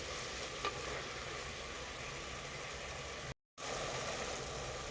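Tomatoes and onions fry in a pan with a continuous, even sizzle and occasional stirring, broken by a brief dropout of total silence near the end.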